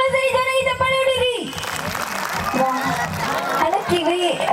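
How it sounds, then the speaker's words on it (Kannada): Audience at a live comedy show breaks into sustained clapping and applause, a dense crowd roar filling the room after a brief moment of a voice over music, continuing loudly throughout. "ಹೆಣ್ಮಕ್ಳು ಸರಿ ಜನ ಈ ಚಪ್ಪಾಳೆ ಹೊಡಿರಿ"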